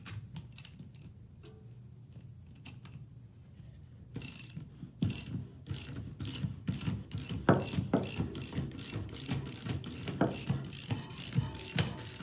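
Removing the cover cap from a Powers MM430 valve gives a quiet start and then rapid repeated ratcheting clicks from close by, growing louder and denser toward the end, with no talking.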